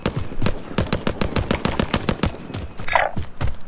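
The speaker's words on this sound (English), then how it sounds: "Someone shooting!" Rapid bursts of automatic gunfire crack out in a video game shootout, a dense rhythmic string of loud shots running nearly the whole time with a brief lull near the end.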